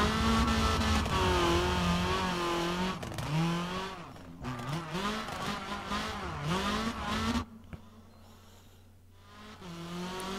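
Rally car engine in the WRC 3 racing game revving hard and accelerating along a straight, a loud continuous roar with rising pitch and gear shifts, dropping off near the end as the throttle lifts.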